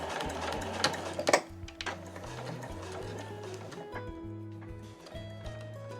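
A home sewing machine stitches the side of a fabric house-shaped key case, running in short pulsing bursts with a few sharp clicks near the start.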